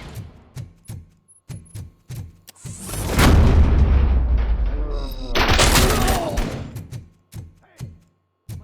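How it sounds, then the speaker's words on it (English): In the Robocop: Rogue City game on PS5, sharp gunshots fire in a rapid rhythmic series, then two long loud explosive bursts of shooting and impacts take over before the single shots resume. "am I hearing gunshots?"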